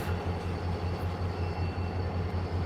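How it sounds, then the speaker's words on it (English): Rail yard seen from a clifftop at dusk, with an outbound train, an inbound train and an autonomous locomotive switching cars; a steady low rumble of distant engines idling and moving, continuous and even, no voices. "we have one outbound, one autonomous locomotive working building trains here in front of us, and one inbound over on the far side"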